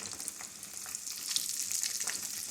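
Tempering of seeds, onion and asafoetida sizzling in hot oil for a red chilli chutney, a steady close, crackling fry with small pops throughout and no talking.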